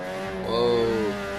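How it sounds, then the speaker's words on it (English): A rotary-engined car with a possible twin turbo spins its wheels in Forza Horizon, a brief rising engine whine and tire squeal swelling and fading within a second or two. "it's just wheel spin, even though I have traction control on"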